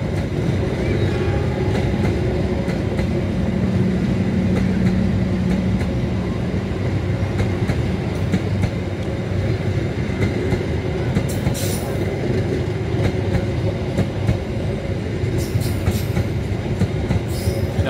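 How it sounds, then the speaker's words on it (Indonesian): A very long train rumbles steadily past on the tracks through Jatinegara station, a continuous loud roll of wheels with occasional metallic squeals, heard up close throughout. "Kereta terus melaju melintasi stasiun Jatinegara."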